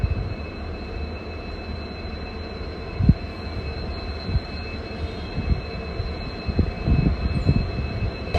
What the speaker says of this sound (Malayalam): യശ്വന്ത്പൂർ ഗോരഖ്പൂർ എക്സ്പ്രസ് കേട്ടോ, ആ വണ്ടിയാ.